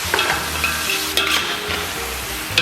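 Blanched chicken pieces hit a hot wok for stir-frying and sizzle loudly, with sharp bursts of crackling and scraping stir strokes recurring every half second or so, close and prominent.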